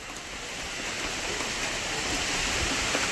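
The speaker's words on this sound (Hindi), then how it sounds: "यहाँ पे पूरा हवा दे रहा है आज बारिश के साथ साथ" Steady heavy rain pours down on a main road in Guwahati, India, with a broad rushing hiss, wind blowing through it, the sound swelling slightly louder toward the end.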